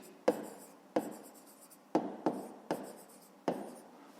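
Pencil or pen writing by hand on paper while working a fifth-grade math exercise, with six distinct scratchy strokes arriving in an irregular rhythm, close and fairly quiet, no talking.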